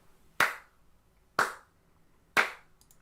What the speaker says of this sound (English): Just double check the claps.